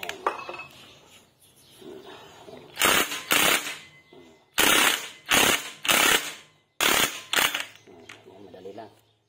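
Impact wrench removing bolts from the clutch housing of a Suzuki Raider J 115 Fi motorcycle, loud close bursts of rattling hammering separated by pauses, with someone speaking softly between them.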